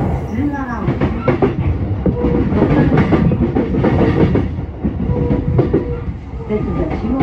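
A Chuo Line special rapid service train runs between Ochanomizu and Yotsuya, heard from inside the car in 2021: a continuous loud rumble with rhythmic clickety-clack of wheels over rail joints, and an announcement voice mixed in.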